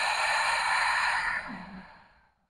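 A deep belly breath exhaled during a low back pain exercise: a long, breathy airy release that holds steady, then tapers off and fades to quiet, close to the microphone.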